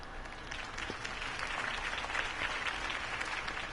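A crowd in Batman: The Telltale Series applauding after Harvey Dent's campaign speech: sustained, even clapping from many people, mid-distance, swelling slightly midway and holding steady without any spoken words.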